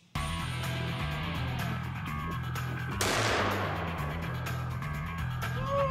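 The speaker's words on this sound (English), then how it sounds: "That's a cannon." A single loud, close gunshot from a revolver, sharp and booming like a cannon, cutting through steady background noise, followed by a decaying rumble.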